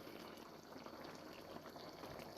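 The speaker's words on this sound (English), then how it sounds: "we just want to simmer this a little bit just to let that cream thicken up" Chicken in a vinegar cream sauce simmers gently in a pan, a soft, continuous bubbling and crackle at low level, steady throughout with a sharp knock right at the end.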